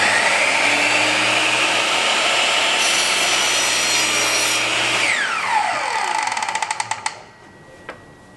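A Bosch GCM 12 GDL radial miter saw motor starts with a loud, close whine and roar, holds steady, then shifts pitch and spins down with a falling hum before going quiet.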